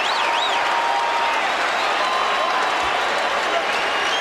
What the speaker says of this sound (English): This crowd is on their feet wanting me to get it.